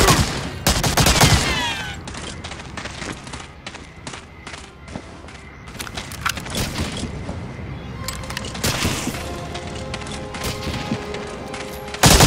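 Heavy gunfire in the World War II shooter Medal of Honor: Allied Assault, with dense bursts of rifle and machine-gun shots, several sharp loud cracks and thuds, and a continuous rattle of fire near and far.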